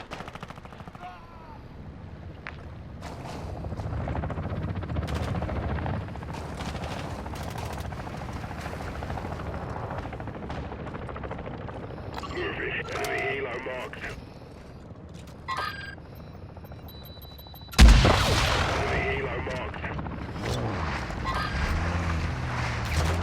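Gunfire in a Call of Duty match: a dense, continuous battle din of shots and rumbling, with a sudden loud blast near the end, and a voice speaking over it.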